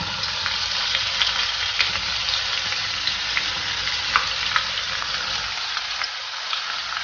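Onion sizzles in hot oil with curry leaves and asafoetida for dhaba-style dal methi, a loud continuous frying hiss broken by small pops and crackles, with occasional stirring scrapes and no voices.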